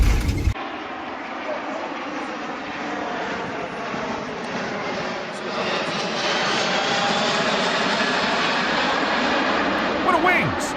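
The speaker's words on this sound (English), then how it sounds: "The following plane had to land in fog with zero visibility." A fixed-wing airplane landing in fog with zero visibility roars loudly and steadily, its engine drone holding throughout with a slight swell partway.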